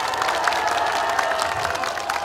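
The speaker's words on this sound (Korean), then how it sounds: "큰 박수를 해주시기 바랍니다." A crowd applauds steadily at a Korean political memorial event honouring generals, dense continuous clapping with faint cheering that fills the whole short stretch.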